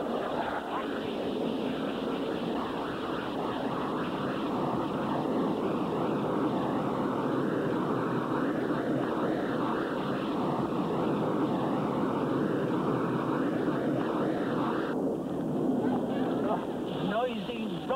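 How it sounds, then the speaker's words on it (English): A noisy, worn-out jet aircraft engine roars steadily and loudly for the whole stretch, a thick continuous drone that briefly dips near the end. "Noisy, rotten jet."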